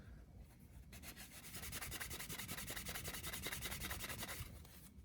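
Canvas rubbed firmly over a handmade leather bifold wallet, a close, rhythmic scratchy rasp of quick back-and-forth strokes lasting several seconds.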